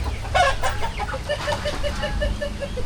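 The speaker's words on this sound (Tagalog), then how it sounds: "Manok, dami oh" Several chickens clucking close by in quick, overlapping bursts, with a steady run of soft clucks and low background noise.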